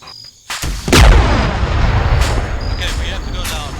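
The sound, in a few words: rifle gunfire in Arma 3 video game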